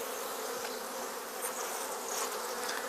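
Loud, steady buzzing from a honey bee colony that appears queenless, with no eggs or larvae and the bees acting nervous, holding a dense, continuous drone close by for the full stretch without speech.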